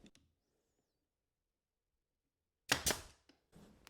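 A nail gun fires into a wooden picture frame during frame making, two sharp close bangs in quick succession after a long quiet stretch, followed by a short clack.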